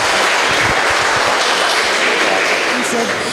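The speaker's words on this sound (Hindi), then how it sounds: "ज़ोरदार तालियों के साथ स्वागत कीजिए हमारी टीम का" An audience claps to welcome a street play team at a Swachh Bharat seminar, a steady, loud mass of applause with a few nearby sharp claps and faint voices underneath.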